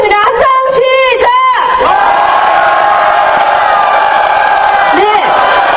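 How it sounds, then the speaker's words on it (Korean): Crowd of candlelight protesters at Cheonggye Plaza letting out a loud, sustained cheer and shout after a few sharp rhythmic chants, a continuous roar of many voices. "모두 환영하는 의미에서 함성 크게 한번 해보겠습니다"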